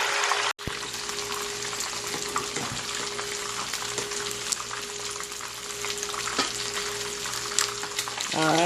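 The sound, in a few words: parrot fish frying in oil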